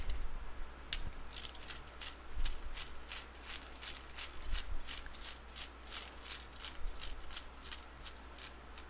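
A ratcheting tool clicks rapidly and steadily while loosening a screw on a Lincoln AC-225 arc welder, close and continuous for several seconds over a low background hum, with no talking.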